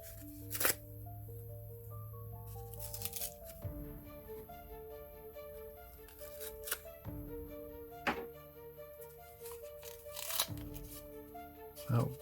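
Coin package being opened from an envelope, with scattered paper rustles, crinkles and soft thunks among quiet background, some bursts louder than others.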